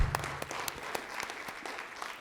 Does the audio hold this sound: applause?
yes